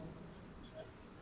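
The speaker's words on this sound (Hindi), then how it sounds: "यहां पे लिखता हूं मैं" Chalk or marker scratching across a classroom board during a chemistry lesson, a steady faint scraping with brief strokes, heard close but quiet under room noise.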